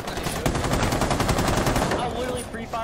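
Rapid automatic gunfire in Rainbow Six Siege, a dense burst of sharp, loud shots for about two seconds before trailing off, with a player's voice faintly underneath.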